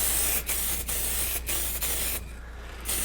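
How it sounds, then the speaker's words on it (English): A fine-nozzle spray can sprays a carved redwood sign in several short hissing bursts, close and steady, with brief pauses between them. "It's got a really nice fine spray, which I really like."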